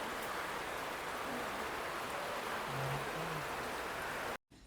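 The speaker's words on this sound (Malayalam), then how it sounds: "നല്ല മഴ." Heavy rain pours down in a dense, even hiss that stays constant throughout before cutting off abruptly at the very end.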